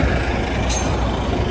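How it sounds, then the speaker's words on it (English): A very big truck passes close on a city street in Doha, Qatar, a loud continuous low engine roar with a brief hiss partway through, filling the whole moment. "A very big truck coming here."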